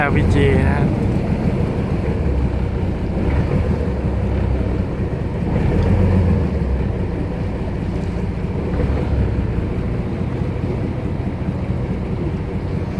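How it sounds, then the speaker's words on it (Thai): A small river ferry pulls away from the bank on its crossing from Wat Sanam Nuea to Ko Kret, heard from the stern: a loud, continuous engine rumble mixed with churning, splashing water and wind. "ก็มานั่งท้ายเรือครับ ตอนนี้เรือก็กำลังเคลื่อนออกอะ"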